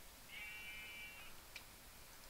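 A single faint, thin sheep bleat rises from a video game farm scene, lasting about a second over quiet background hiss, followed by a tiny tick.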